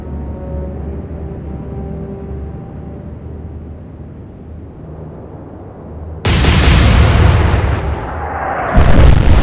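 Naval main gun turrets fire in the Atlantic Fleet naval game, two heavy, loud blasts a few seconds apart breaking through a low engine-and-sea rumble, each leaving a long ringing tail.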